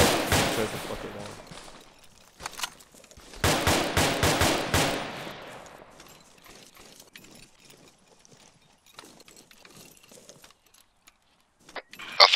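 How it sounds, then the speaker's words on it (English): Bursts of enemy rifle fire in ARMA 3, two dense volleys of rapid shots in the first five seconds, then scattered quieter pops and clatter, with a sharp shot at the very end. "That's enemy firing back."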